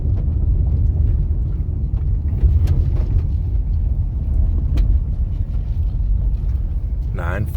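A supercharged LSA Chevy SS driven off-road over rough, rally-like terrain, giving a continuous close, loud low rumble of engine and tyres that stays steady throughout.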